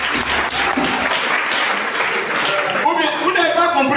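A church congregation claps and applauds during a Sunday worship service, loud and close, with voices shouting over the clapping as it tapers off.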